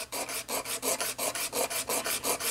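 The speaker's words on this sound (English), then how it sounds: "So I'm using a coarse diamond lap" A coarse diamond lap is rubbed back and forth over carbide to grind off the surface skin, making a rhythmic rasping scrape of about a dozen even strokes, close and clear with no talk.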